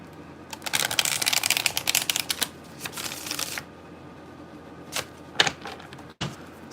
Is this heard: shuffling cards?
yes